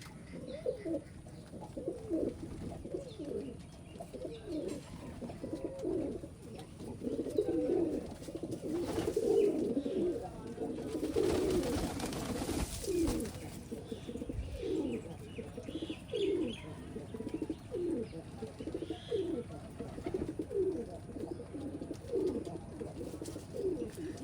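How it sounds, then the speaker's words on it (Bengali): Racing pigeons in a loft cooing, a continuous chorus of low rhythmic coos from several birds nearby, moderately loud, with no talk. "এখানে ডাকাডাকি করে আমার রেসার কবুতর"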